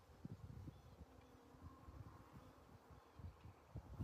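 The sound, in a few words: honey bees buzzing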